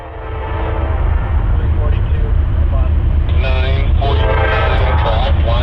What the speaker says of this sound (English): Our last train of the day would be westbound 67X, a daily empty oil train.